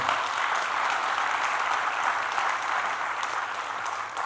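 Sustained applause from a hall audience at a Spring Campus political talk, a steady dense wash of clapping that holds at full strength throughout with no voices over it.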